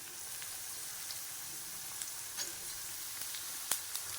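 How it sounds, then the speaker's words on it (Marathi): Steady, quiet sizzle of onions frying in a pan, with a few faint pops and crackles scattered throughout. "कांदा चांगला फ्राय करून घ्यायचा"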